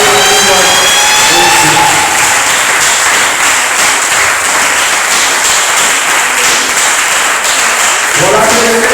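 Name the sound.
congregation clapping to acclaim the Lord in church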